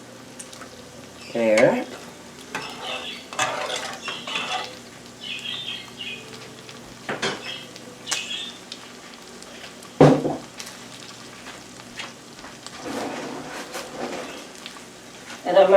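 A spoonful of virgin olive oil hits a hot pan for arroz con pollo, crackling and sizzling in soft bursts with stirring clatter and one sharp knock, while a person talks in between.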